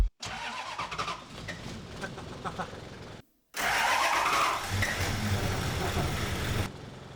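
A Toyota Land Cruiser 2H diesel engine, sitting unused for 26 years, cranks in uneven labored bursts, pauses, then catches and runs with a rough, loud clatter before cutting out.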